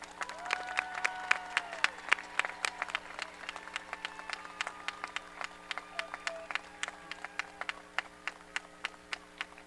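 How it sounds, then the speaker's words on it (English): Audience applause at a high school graduation ceremony, a steady, moderately distant wash of many hands clapping with sharp individual claps standing out, over faint background murmur. "And let's give them a round of applause."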